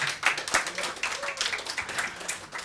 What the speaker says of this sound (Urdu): تالیاں ہونی چاہیے